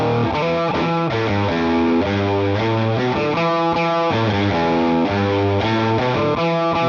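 Distorted electric guitar plays a steady chord riff with an even, compressed sound and consistent loudness throughout.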